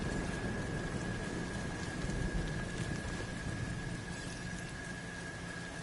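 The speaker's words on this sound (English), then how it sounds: "Of course, we got to go do this in the rain." Steady rain pours down in a video game scene, a dense, even hiss that fills the clip from start to finish with no voices over it.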